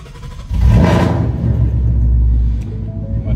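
A Ford Coyote V8 in a manual car cranks and fires up, the idle quickly settling into a loud, steady low rumble with a faint ticking texture.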